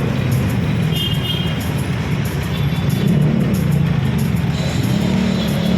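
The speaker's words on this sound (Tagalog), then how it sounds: "Traffic." Steady, dense road traffic around Monumento Circle, with a continuous rumble of cars, buses and trucks filling the scene at close range and no break in the noise.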